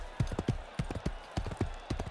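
Rhythmic hoofbeats of a horse in an Xbox 360 Kinect video game clip-clop in an uneven pattern, several sharp knocks in quick succession over a faint background hum.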